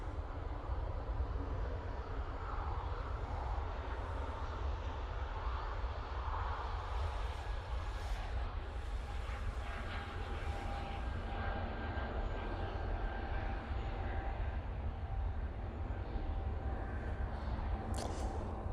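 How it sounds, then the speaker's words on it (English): An easyJet airliner departs Manchester Airport, heard as a continuous, fairly distant engine rumble and whine that stays even throughout. A brief sharp click sounds near the end, and no voices are heard. "Easyjet there, departing."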